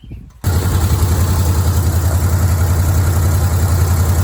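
The engine of a 1969 Pontiac LeMans, unrun since 1998, catches after a brief cranking and settles into a loud, steady rumbling idle that continues without break.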